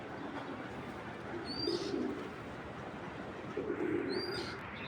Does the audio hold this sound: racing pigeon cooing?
yes